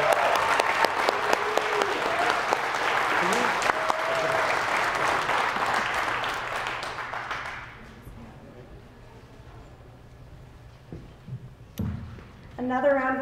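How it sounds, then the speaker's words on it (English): Crowd applauding graduates at a Tesla START program graduation celebration, loud sustained clapping for several seconds that fades out, followed by quieter room sounds and a brief voice near the end. "So let's give one more round of applause for all our graduates."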